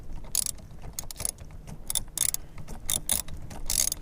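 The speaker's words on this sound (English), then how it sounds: "the next step is just to take out this bolt right here" Ratchet with an extension turning out a 21 mm steering wheel bolt on a Miata, a series of quick clicking bursts in an irregular rhythm, close and fairly loud over a low background hum.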